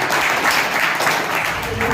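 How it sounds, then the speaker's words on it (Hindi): An audience at a stage program in India breaks into loud, steady applause for an honored guest being welcomed on stage, a dense sustained roar of many hands clapping close by. "तो एक बार जोरदार ताली हमारे टीकूराम सर के लिए"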